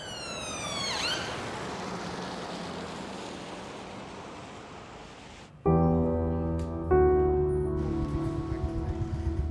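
A high-pitched emergency vehicle siren sweeps loudly at the start, fading into broad rushing noise, followed by steady tonal beeps.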